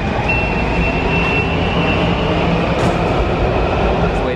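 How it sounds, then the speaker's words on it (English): A Washington DC metro train sounds in a station, a steady loud rumble with a high electric whine running throughout, dense and close. "It's waiting for our train to arrive, okay?"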